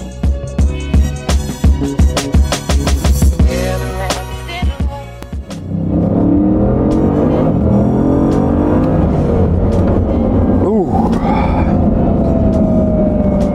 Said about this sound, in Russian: когда ты ускоряешься на машине за 3 миллиона евро